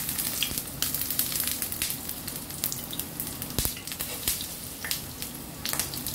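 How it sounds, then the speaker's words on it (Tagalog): Talong (eggplant) fries in hot oil in a pan with a steady, close sizzle, dotted with sharp crackles and pops throughout and no talking. "Frying talong."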